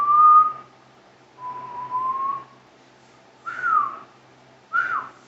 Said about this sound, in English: Fuck, that's a terrible whistle.